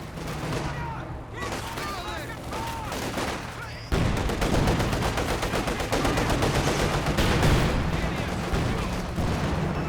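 A Company of Heroes 2 battle with Panzerschreck anti-tank rockets and a tank under fire, full of dense, overlapping gunfire, bursts and booms that grow heavier and more constant partway through.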